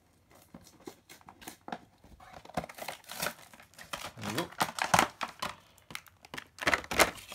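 Plastic packaging of a Spirit Obi-Wan toy figure being slit and torn open with a knife, a run of close crinkling, crackling and ripping bursts that grow denser and louder toward the end.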